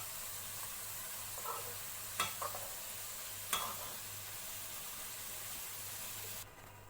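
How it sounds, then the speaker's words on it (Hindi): Gulab jamun frying in hot oil, a steady close sizzling hiss broken by a few sharp stirring clicks before it cuts off near the end. "अब हम इन्हें थोड़ा और फ्राई करेंगे और फिर हम इन्हें चाशनी में डिप कर देंगे"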